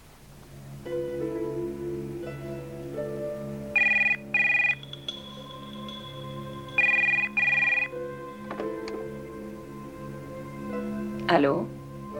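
A telephone rings in an indoor scene, with two clear bursts of ringing in a steady electronic pattern that stand out over background music and a continuous room bed, before a sharp rising sound near the end.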